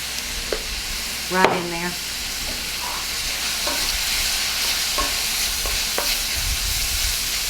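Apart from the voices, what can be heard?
peppers and red pepper flakes frying in a pan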